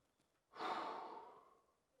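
One deep exhaled breath during a neck mobility stretch, a soft close breathy rush that rises suddenly and fades slowly over about a second and a half in quiet surroundings.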